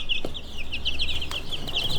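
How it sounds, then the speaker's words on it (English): Dun mottled Red Mottled Ancona bantam chicks peeping continuously in a high, close chorus of overlapping chirps, with a few soft knocks underneath. "I have so many chicks right now"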